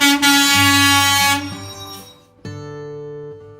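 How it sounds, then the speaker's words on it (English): A dumper truck blasts its air horn in a long, loud, steady honk, then a shorter second blast follows after a brief gap. "dumper truck"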